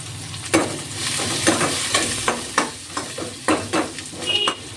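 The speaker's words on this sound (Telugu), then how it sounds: "పచ్చిమిర్చి ఇప్పుడు కొంచెం పసుపు కూడా వేసుకొని వేగించుకోవాలి" Onion, green chilli and turmeric fry in a pan, a loud close sizzle broken by repeated stirring scrapes and clatters at an irregular rhythm, no talk.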